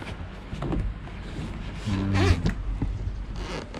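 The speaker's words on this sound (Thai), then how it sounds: "เรามารูดซิปเปิดออกมาดู" A zipper on a hard carrying case for an SV4401A handheld network analyzer is pulled open in a few rasping strokes, close and moderately loud, with faint background noise.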